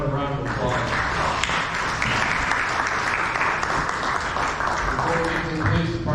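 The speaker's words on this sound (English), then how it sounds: "How about a round of applause?" Full-room applause from attendees at a town neighborhood watch meeting, continuous clapping at a steady level, with a voice speaking briefly at the start and again near the end.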